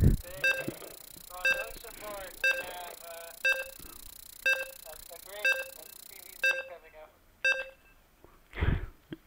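Short phone beeps sound in a regular series, roughly one burst per second, with someone speaking between and around them during an online PvP game tournament.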